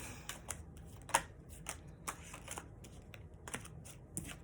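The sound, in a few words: shuffling tarot cards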